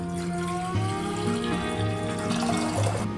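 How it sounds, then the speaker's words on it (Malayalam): A litre of water poured into a pot, a steady close stream with rising resonant tones as the vessel fills, alone without talk. "ആദ്യം ഒരു ലിറ്റർ വെള്ളം ഒഴിച്ചു കൊടുക്കാം"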